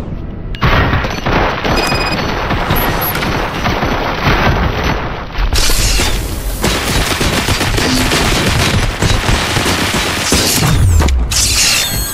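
Loud, sustained gunfire from the first-person shooter RoboCop: Rogue City on PS5, with dense rapid bursts and booming impacts running nearly continuously, no voices over it.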